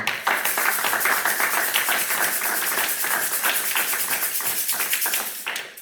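A church congregation claps together, a dense, steady burst of many hands applauding close by for several seconds, fading slightly at the end, with no speech.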